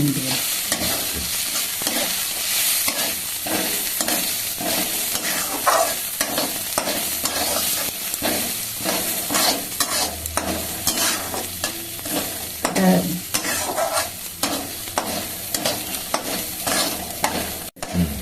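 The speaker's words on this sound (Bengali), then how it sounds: "একটু ভালো করে ভাজছি তো দেখছো না সব লাফাচ্ছে" Continuous loud frying sizzle with constant scraping and stirring as Gobindobhog rice grains fry in a pan, a dense crackling texture lasting throughout without speech.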